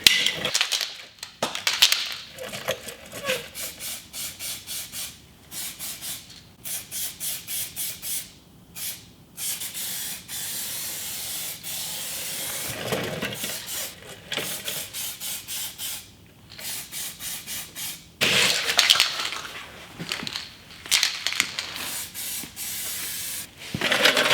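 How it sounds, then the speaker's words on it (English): Acid etch primer hisses from a spray can onto welds on the rocker panel of a Ford F250 truck, in many short bursts with brief gaps, close and loud. "hit it with some of this acid etch primer"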